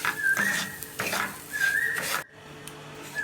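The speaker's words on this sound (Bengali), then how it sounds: "হালকা করে একটু ব্রাউন করে ভেজে দিতে হবে।" A spoon scrapes and stirs semolina frying in ghee in a wok, making repeated rhythmic scraping strokes with a faint sizzle underneath, close and moderately loud.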